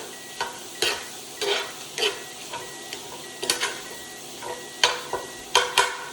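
A metal spoon stirs and breaks up ground beef in a sizzling cast iron pan, with a steady frying hiss beneath repeated sharp scraping clinks at an irregular rhythm, close and clear.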